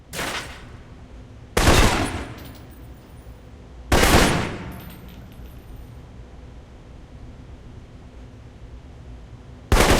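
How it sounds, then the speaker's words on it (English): Assault rifle bursts in the PC video game Alpha Protocol: three loud, sharp volleys of rapid fire separated by quiet pauses, with a brief fourth burst cut off at the end. "For long-range encounters, the assault rifle's the key"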